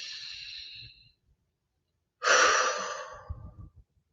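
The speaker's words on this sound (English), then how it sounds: "Let's go ahead and take a deep breath together." Two breaths from a live tapping session: a long airy inhale fades out, a pause of silence follows, then a louder, fuller exhale trails off with faint breathy catches, close and clear without words.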